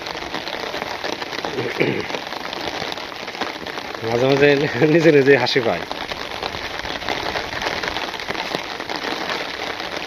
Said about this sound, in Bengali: বৃষ্টি আস্তে আস্তে বাড়তেছে